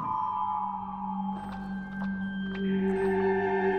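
A soft, sustained chime tone from the video game Year Walk, holding steady near the listener under a faint ambient drone, with no talk.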